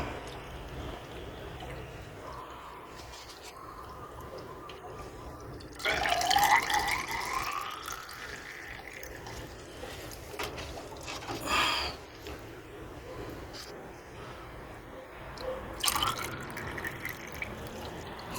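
Water runs and drips from the pipe of a water pump while it is being primed. The drips and splashes come close and steady, with louder splashy bursts now and then and a faint voice at times.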